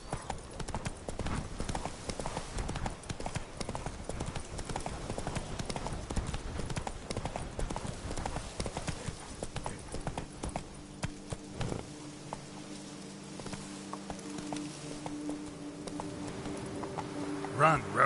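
Hooves of the horse Roach pounding in a fast, steady gallop rhythm in The Witcher 3, close and continuous, with a muffled voice under them and a brief musical chime near the end.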